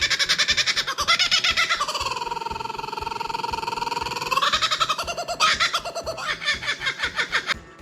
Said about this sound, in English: hadn't seen the Kookaburra in a long time